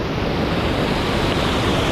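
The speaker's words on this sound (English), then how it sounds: "Can you feel the sound of this water, guys?" Rushing water at Jogini waterfall in Kullu Manali, Himachal Pradesh, India, makes a dense, steady roar that stays loud and even from start to finish, with no voices over it.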